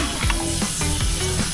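Pork frying in a pan at a car campsite in La Trinidad, Benguet, sizzles in a loud, continuous crackle. Faint stirring scrapes come through at intervals.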